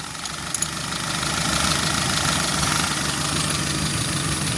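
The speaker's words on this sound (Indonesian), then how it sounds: "mesinnya anteng dan didengar juga enak" A Suzuki Forsa car engine idles after tuning, a steady, even rumble with a faint knocking texture, running close and unchanging throughout with no talk.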